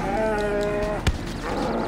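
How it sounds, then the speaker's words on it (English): In GTA V, a cow gives a drawn-out, fairly close moo, followed by a sharp thump and then a quieter lowing sound. "He's kicking my cow, though."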